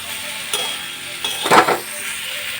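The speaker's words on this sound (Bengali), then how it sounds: "চিনিটা দিয়ে আবার একটু ভালোভাবে কষিয়ে নেব" Sugar-dusted pumpkin curry (kumror chhokka) being stir-fried in a pan, with a soft constant sizzle broken by a few scraping stirs, the loudest pass coming near the end.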